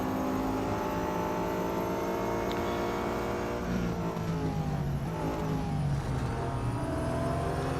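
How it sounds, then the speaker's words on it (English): A petrol engine on a mid-tier race car in the Real Racing 3 video game drones steadily and loudly throughout, rising and shifting in pitch as it accelerates, with no talk over it. "it's obviously a petrol engine, but it sounds a little bit not quite as noisy as some of the ones we've been racing"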